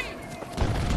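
Grenade blast in the shooter Battlefield 2042: a single heavy, booming burst that swells in the second half of the second, thick and loud in the low end, with no voice over it.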